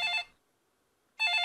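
A telephone bell rings in two short bursts separated by a brief silence, clear and close.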